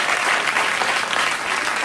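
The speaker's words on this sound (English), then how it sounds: "Just clap" A television studio audience for a late-night talk show breaks into dense, sustained applause, a steady roar of many hands clapping close and loud throughout.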